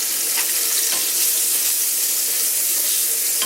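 Bacon grease sizzling in a cast iron pan, a steady dense crackle running loud and close the whole time with small pops, no voices over it.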